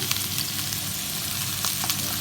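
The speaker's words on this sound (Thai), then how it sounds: "ดูสิ กำลังผัดกำลังทอด" Food sizzles and crackles steadily in a hot pan, close by, with small pops and occasional stirring scrapes.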